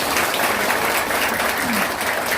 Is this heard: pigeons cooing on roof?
no